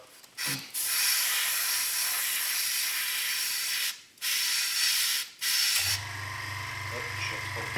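An airbrush spray gun lays a light coat of AK Super Chrome paint in three hissing bursts: one long, steady burst followed by two shorter ones. A low, steady mechanical hum continues after the spraying stops.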